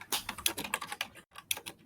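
Fingers type quickly on a computer keyboard set right beside a microphone, a close and crisp run of clacking keystrokes in uneven bursts with one brief pause, and no voices.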